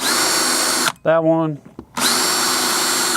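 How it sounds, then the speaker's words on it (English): A power drill whines loudly and steadily, stops briefly for a short spoken phrase, then starts up again at full speed. "I'll drill that one,"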